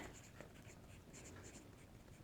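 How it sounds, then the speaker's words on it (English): A Papermate Clear Point 0.7 mechanical pencil with soft lead scratches across Midori Idea Diary A5 notebook paper in quick, light strokes, heard close up and quiet with no talking. "I like to see how pencil's going to do in my notebooks."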